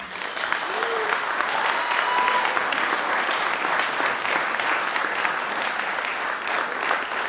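An audience at a police department promotional ceremony in Paterson, New Jersey claps steadily for a newly sworn lieutenant, a dense, sustained round of applause from a crowd indoors.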